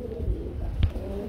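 Danish and Lahori pigeons at a pigeon seller's loft giving low, soft coos, with one clearer coo near the end against quiet background noise.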